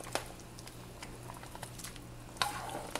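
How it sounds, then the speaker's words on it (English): A spoon stirs chicken adobo sauce boiling in a pan, with a soft, steady bubbling sizzle and occasional quiet scrapes, close by and without talk. "the sauce is boiling and we have to stir this."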